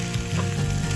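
Chicken roast with butter being stirred in a frying pan, giving a loud, continuous sizzle with faint scraping throughout a short moment.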